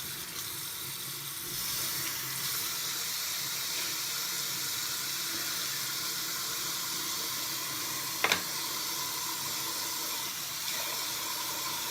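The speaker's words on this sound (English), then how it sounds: "Let me wash my hands." Tap water runs steadily from a faucet into a sink as hands are washed, a continuous broadband hiss with one brief clatter partway through.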